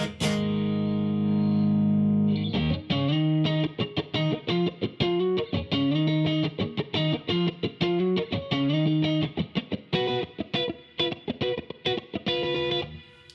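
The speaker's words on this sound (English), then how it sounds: "the reverb you're hearing is the reverb from the Fender" Electric guitar through a Carl Martin Andy Timmons compressor and Fender amp reverb plays a sustained chord, then chopped rhythmic strums, evenly compressed with a reverb tail ringing after each hit; no voices.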